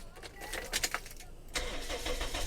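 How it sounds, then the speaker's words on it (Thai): A 2006 Toyota Vios engine cranks briefly and catches on the first try, settling into a steady, fairly quiet, soft idle with no one speaking. "รถสตาร์ทติดง่ายๆ เลยนะครับ"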